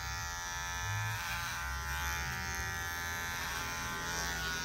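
An electric hair clipper fades a haircut in a barbershop, giving a close, steady buzzing drone that shifts slightly in pitch as it moves through the hair, alone without talking.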